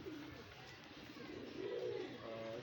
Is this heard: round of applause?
no